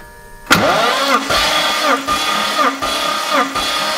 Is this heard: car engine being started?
yes